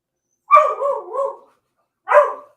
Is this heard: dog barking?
yes